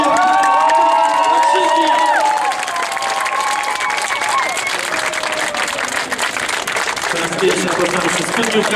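An audience at a Warsaw charity prom claps and cheers after a polonaise dance, a broad wash of applause with whoops and shouts while an announcer talks over it through amplified sound.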